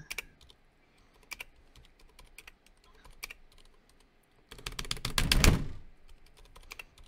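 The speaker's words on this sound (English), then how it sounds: "Slam your keyboard any harder" Keys clatter on a computer keyboard in scattered bursts, then a loud, fast flurry of hard typing swells before easing back to sparse taps.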